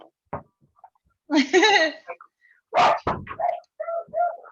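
A dog close by gives several sharp barks mixed with yips and whimpering whines, in uneven bursts separated by short pauses.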